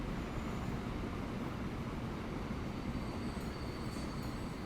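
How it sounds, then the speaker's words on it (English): A train rolls past steadily in the rail-management game Transport Fever 2, a continuous low rumble of wheels and cars on track with faint high squeals, heading the opposite way, with no talking. "Here comes the other train, going the other direction."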